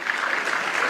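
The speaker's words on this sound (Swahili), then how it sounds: "Board members ya Kenya Railway wote wasimame, tuwapigie makofi" Audience applause at a live public event with Kenya's president, a short, dense burst of steady clapping from a crowd, loud and close, with no talk over it.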